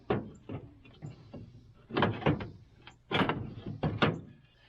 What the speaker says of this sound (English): Let me hinge this door back up.